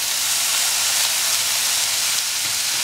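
Chopped onions, three of them, hitting hot spice masala in a pan for Kolhapuri chicken, producing a loud, continuous hissing sizzle that holds steady from start to finish with no voices.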